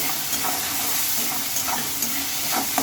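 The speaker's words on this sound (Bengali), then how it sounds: "এবার একটু আমি ভালোভাবে নেড়ে ফেলে নেবো" Tomatoes frying in oil with salt give a steady, fairly loud sizzle, and a spoon stirs the pan now and then. No voices are heard.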